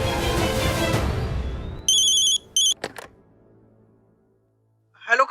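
A telephone rings in a Hindi television drama: two short electronic ring bursts sound as loud music fades out, followed by near silence and a brief voice at the end.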